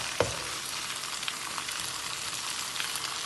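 Indian mackerel laid into hot oil in a large frying pan, a steady close sizzle with a sharp clack as a piece goes down early and a few faint taps after, no voices.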